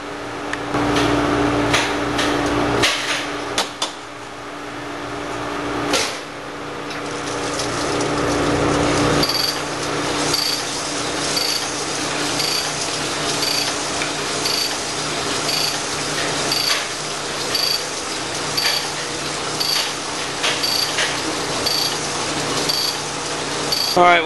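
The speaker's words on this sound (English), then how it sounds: "set the machine up, change the stones, and finish off the honing process with a 220 grit" A cylinder honing machine works a Harley-Davidson cylinder with 220 grit stones, a steady grinding, rattling mechanical drone with periodic clicks, loud and close, with a noisier burst early on.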